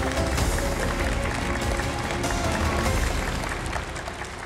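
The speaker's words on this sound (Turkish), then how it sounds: "Alkışlarınız." An audience applauds at a televised Quran recitation competition as the evening's winners are announced, a loud, even wash of clapping that tapers off slightly toward the end, with no talk.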